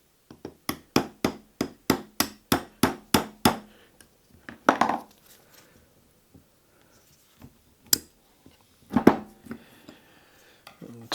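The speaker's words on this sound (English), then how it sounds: "knock this pin through to release this" A vintage Woden vice has a pin hammered out, a quick run of about a dozen sharp, evenly spaced metallic blows, followed by scattered heavier strikes and pauses.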